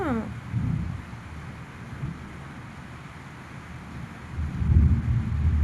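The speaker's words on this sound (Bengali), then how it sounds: "বাইরে মেঘ ডাকছে" Thunder rumbling outside during rainy weather, low rolling rumbles that swell twice, near the start and near the end, over a steady background with a brief voice at the beginning.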